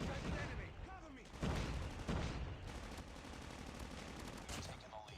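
Rapid gunfire bursts and booms from a Call of Duty Mobile match with a revolver, loud and dense throughout, layered with game effects and a faint voice.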